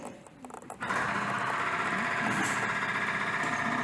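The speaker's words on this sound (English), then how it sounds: "You can hear the fuel pump kicking in." Fuel pump of a 1956 Chevy Bel Air kicking in with the ignition on: after a quiet start, a sudden steady mechanical whir and buzz begins and runs on close and constant.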